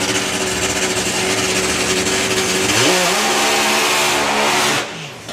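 Al Smith's Rocket, a ground-up supercharged three-cylinder drag racing machine, drones loud and steady at a drag strip, then its pitch shifts up sharply as the engine revs, before the roar cuts back abruptly near the end.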